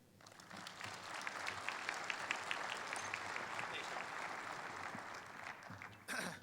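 An audience claps steadily to welcome a speaker at a U.S. Northern Command and NORAD presentation. The applause is moderate and sustained for several seconds, then fades.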